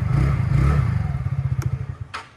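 A TVS Ntorq or Honda Dio 125 scooter's exhaust burbles close by at idle in a deep, even pulsing rhythm that slows slightly, with a couple of brief clicks near the end.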